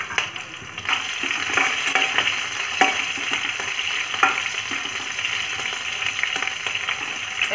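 Green chillies and ajwain seeds frying in hot mustard oil, a steady loud sizzle with crackles and occasional stirring clinks throughout, no talking.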